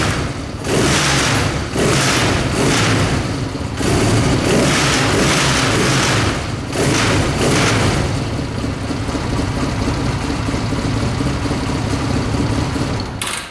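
A cold Honda CB 250 motorcycle engine starts in a workshop and revs in loud bursts, then settles into a steady, rough running note close by, with a rattling vibration. No one speaks.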